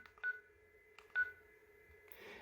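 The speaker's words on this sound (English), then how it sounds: "let's say, dial an extension" A few short keypad tones beep in quick succession as an extension is dialed on a Yealink T54W desk phone, over a faint steady hum, then a soft rustle.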